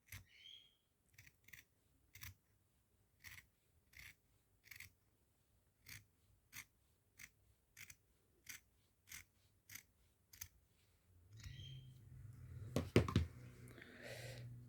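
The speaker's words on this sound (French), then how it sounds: "Je soulève mon passepoil et je coupe, hop, sur la ligne du milieu." Scissors snip through the piping on a garment with a double-piped pocket, a steady series of about a dozen crisp, close, evenly spaced cuts, then a louder rustle of fabric handling near the end, no talking.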